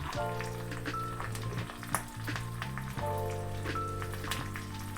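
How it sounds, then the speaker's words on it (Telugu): Tempering spices with fenugreek powder and asafoetida fry in hot oil, giving a steady, close crackling sizzle that runs without break, with a faint melodic background underneath. "పోపుని బాగా వేగనివ్వాలి."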